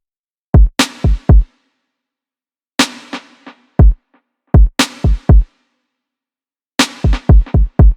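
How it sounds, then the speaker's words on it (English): Programmed kick and snare pattern for a cinematic R&B beat, with deep kicks and cracking snares in short clustered bursts, each hit trailing reverb and repeating tape-echo delays, loud and alone with gaps of silence between phrases. "So this is what we have for the kick and the snare pattern."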